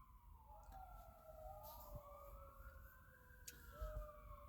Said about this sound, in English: You hear all the sirens in the background?